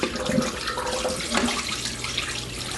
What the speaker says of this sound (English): We're going to dump off this water, and then we're going to bring the wings back to the counter.